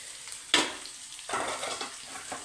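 Fish curry gravy cooking in a pan before the fish goes in, with a sharp sizzle burst, then a softer bubbling simmer and light stirring, close by and without talk.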